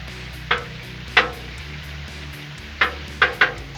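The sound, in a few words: chorizo sizzling and being chopped on a Blackstone griddle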